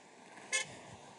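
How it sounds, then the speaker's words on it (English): A single brief car horn toot sounds somewhat distant in street traffic, rising over a low, steady hum of road noise. "Everyone's honking at me."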